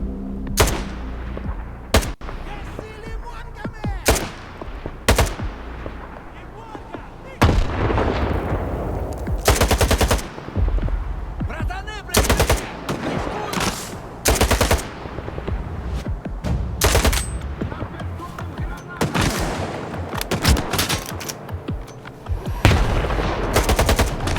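Repeated bursts of automatic gunfire and heavy shots from the video game S.T.A.L.K.E.R. 2, loud and close, with rapid volleys separated by short pauses and no talking over them.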